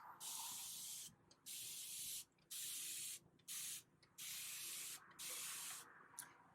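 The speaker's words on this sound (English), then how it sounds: "Using my spray bottle, lightly misting" A spray bottle hisses out fine water mist onto hair in a series of about six steady bursts, close by, separated by brief pauses.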